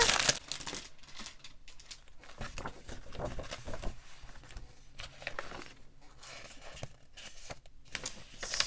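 Paper crinkles and rustles in close, irregular bursts while a newly delivered order is unboxed, with short tearing-like scrapes mixed in and no talking.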